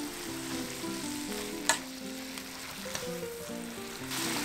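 Bean sprouts stir-frying with salt in a pan, a steady close sizzle with one sharp clack of a utensil and light stirring, soft background music underneath and no speech.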